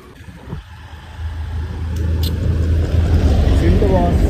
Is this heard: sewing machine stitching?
no